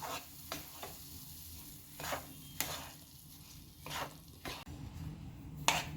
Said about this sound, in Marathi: आपल्याला रवा हा मंद आचेवर छान असा भाजून घ्यायचा आहे.